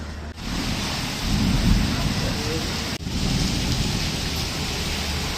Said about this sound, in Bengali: বৃষ্টি তো থামে না